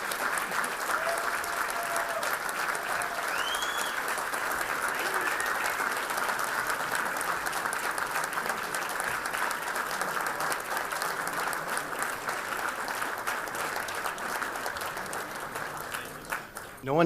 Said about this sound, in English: Please give a thunderous roar of applause for John Zabel, Cliff Mulcahy, and Rosie's B